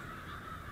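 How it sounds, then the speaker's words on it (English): A hundred or so crows cawing in a valley in the Kisatchie Hills Wilderness, a steady chorus of calls blending into a continuous background din across a wide open space. "See down in the valley, just see 20, 30 crows. You can probably hear them, maybe."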